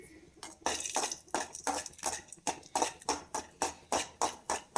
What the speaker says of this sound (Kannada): ಒಂದು ಕಡಾಯಲ್ಲಿ ಲವಂಗ ಹಾಗೂ ಚಕ್ಕೆನ ಚೆನ್ನಾಗಿ ಹುರ್ಕೊಳ್ತಾ ಇದ್ದೀನಿ